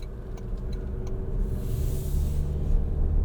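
A 2024 Toyota Grand Highlander Platinum AWD with the 2.4 L turbo four drives off, a steady low engine and road drone that swells slightly toward the end, heard from inside the cabin with no talking.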